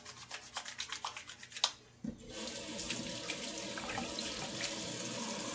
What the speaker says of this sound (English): I'll put soap and wash my hands again with hot water and soap.